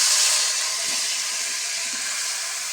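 Beef with a little water tipped into a hot pan for Kerala-style beef fry, giving a steady loud broadband hiss of steam and sizzling that holds through the whole stretch, gently easing off, with no voices.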